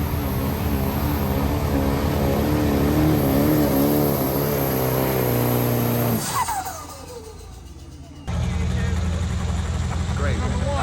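A Duramax diesel pickup, a 2.6-class truck, pulling in an outlaw class at a county fairgrounds truck pull in Tennessee, its engine roaring loud and steady with shifting harmonic tones, cutting back to a lower rumble, then surging again.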